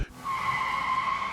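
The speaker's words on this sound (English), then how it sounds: "He turned it hard. The car lost control." A car skids out of control with a sustained, loud tire squeal, a steady high screech that holds evenly after a brief opening thump.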